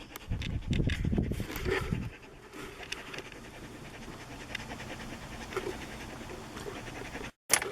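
Rapid, breathy panting from a dog close by, loudest at the start and then easing into quieter breathing and shuffling.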